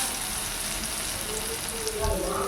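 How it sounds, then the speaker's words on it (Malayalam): Ground dried red chilli paste frying in hot coconut oil, a steady close sizzle and crackle that flares slightly louder near the end, with a voice talking faintly in the background. "ചൂടായി വരുമ്പോൾ നമ്മൾ നേരത്തെ അരച്ച് വെച്ച ആ മിക്സ്, അതായത് വറ്റൽമുളകിൻ്റെയും ഇതിൻ്റെയും മിക്സ് നമ്മളതിലേക്ക് ഇട്ട് കൊടുക്കാം"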